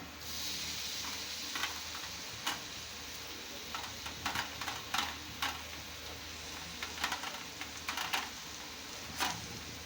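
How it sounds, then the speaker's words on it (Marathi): Tomato being sautéed into onion masala in a pan, a low continuous sizzle with intermittent light scrapes and taps of a spoon stirring, fairly faint and without talk. "टोमॅटो पण व्यवस्थित आता परतलेला आहे"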